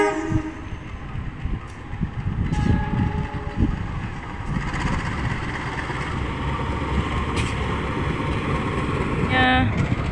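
KRL commuter train JR05 bound for Bekasi passing Jatinegara station: a steady rumble of wheels on rails and clattering carriages, with short horn blasts and a tonal whistle near the end, close and loud.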